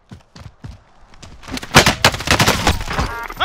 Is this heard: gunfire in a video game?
yes